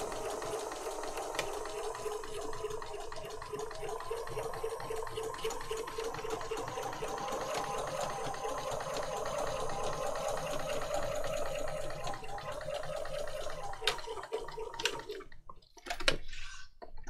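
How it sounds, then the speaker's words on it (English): Sewing machine stitching through paper to make a journal envelope, a quiet steady rapid whirring run close by that stops near the end, followed by a few handling clicks. "And I just reverse at the end over the first few stitches that I did."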